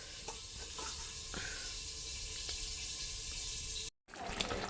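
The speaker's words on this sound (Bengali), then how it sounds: "এখানে এই যে মাটনটাকে কষাচ্ছি আমি" Mutton sizzles steadily in a pan while being sautéed, a soft continuous frying hiss with faint stirring clicks and a brief cut near the end.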